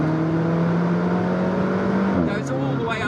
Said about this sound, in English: the turbo cuts in, and I'm doing now second gear